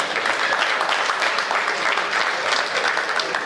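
Continuous applause fills a hall at a Hindi poetry recital after a poet from Haryana greets the crowd, loud and even throughout, a thick layer of many hands clapping with no talk on top.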